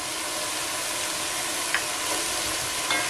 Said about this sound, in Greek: Θα τα αφήσουμε να τσιγαριστούν τουλάχιστον για 5 λεπτά